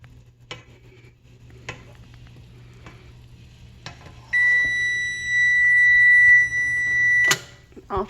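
A kitchen timer sounds a sustained electronic beep for about three seconds while strawberry pepper jelly boils, preceded by a few sharp taps and clinks of a spoon against the pot.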